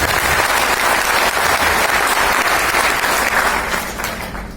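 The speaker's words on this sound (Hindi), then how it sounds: "मैं एक बार तालियां चाहूंगी उनके लिए" Loud, sustained applause from a seminar audience, dense clapping from many hands filling the room, fading slightly at the end, with no speech over it.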